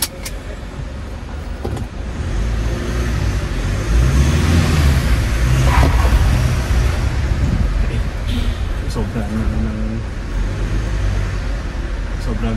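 A Mitsubishi Montero Sport with a manual gearbox drives uphill in Baguio City, its engine droning loud and close with rising, strained revving and road noise, while people speak over it.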